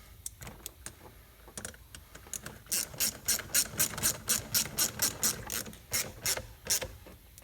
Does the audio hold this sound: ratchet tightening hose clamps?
yes